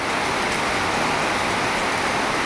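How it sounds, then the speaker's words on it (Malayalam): Heavy rain pouring down during an afternoon downpour, a dense, steady hiss that fills the whole moment without a break, loud and close, with no voices. "ഒരു രക്ഷയില്ലാത്ത മഴ കേട്ടാ"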